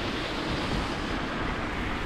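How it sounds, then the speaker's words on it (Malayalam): A swollen small stream runs through the University of Canterbury campus in New Zealand, nearly two metres deep after wind and rain. Its flow makes a steady, dense rushing wash, close and unbroken, with no voices. "ആ അരുവിയാണ് പോകുന്നത് കേട്ടോ."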